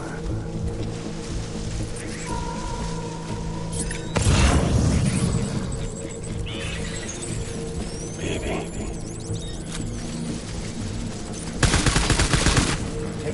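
Video game gunfire in Death Stranding, with bursts of rapid shots and booming impacts over a steady background hum of music and ambience, loudest in two short stretches.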